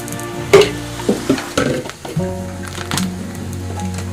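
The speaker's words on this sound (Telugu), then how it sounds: "ఈ ఫ్రైని మాత్రం సిమ్లోనే వేపాలి ఇలా బాగా ఫ్రై అవ్వాలి సిమ్లో" Chicken curry fry sizzling on low heat in a pan, with steady frying hiss and a few scraping stirs near the start, close up and fairly loud, no talk.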